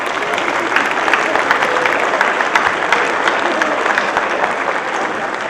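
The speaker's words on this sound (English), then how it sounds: "How about giving Mom and Dad a round of applause?" Audience at a National Honor Society induction ceremony applauding the students' parents, a steady, dense clapping from a large crowd, loud and sustained throughout.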